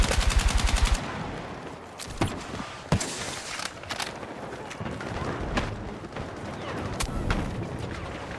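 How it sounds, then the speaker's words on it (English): Battlefield 6 combat with a grenade exploding among sustained gunfire: a rapid rattling burst opens, then scattered sharp shots and several loud blasts crack over a continuous noisy battlefield bed. "Made a sound of the grenade exploding."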